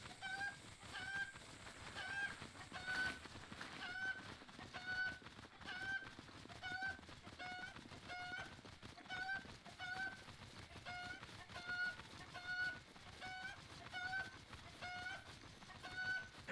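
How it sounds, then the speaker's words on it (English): Cucco chicken in a Zelda video game, clucking in a regular series of short, bright calls spaced about a second apart over a faint background of game sound. "This chicken is gonna die."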